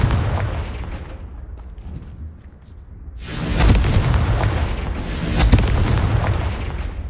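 Heavy booming blasts from the Confringo fire spell in Hogwarts Legacy, a rumbling explosion followed by two more loud bursts with crackling debris, close and powerful with no talk.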